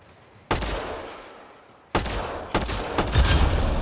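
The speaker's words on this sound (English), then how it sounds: "Shooting the device will destroy it." Gunfire from a weapon fired at a Kett device in the Mass Effect Andromeda video game: three or four sharp, loud shots with echoing decay, the last ones coming in a quicker burst, with no talking.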